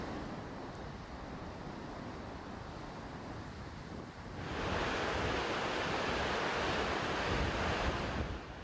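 Heavy surf crashes and rumbles along the coast during Cyclone Harry's storm in southern Italy, a dense roar mixed with wind buffeting the microphone, growing louder and fuller midway as a larger wave surges in.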